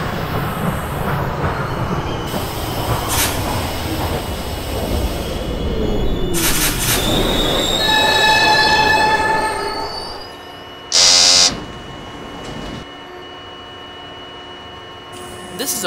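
An R40M subway train on the H line to Rockaway Park, simulated in OpenBVE, rumbles along the rails with rising motor whine and wheel squeal, then slows to quieter hum with a short tonal beep.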